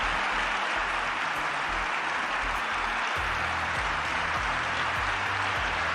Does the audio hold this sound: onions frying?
no